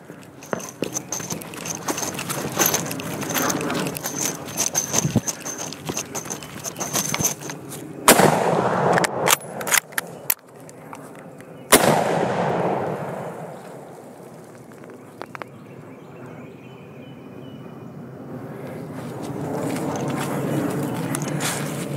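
Two loud Mosin Nagant rifle shots crack a few seconds apart during an outdoor drill, each followed by a rolling echo that fades into the surrounding ambience.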